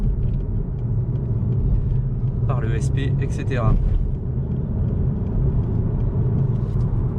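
A Ford Puma ST with a three-cylinder turbo engine in race mode with the exhaust valve open, its low rumble running steadily under someone talking in French, with a brief higher whine or pop near the middle.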